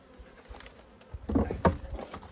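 A honeybee swarm that has left its hive buzzes in a steady, faint drone, swelling louder midway as insects pass close, with no talk over it.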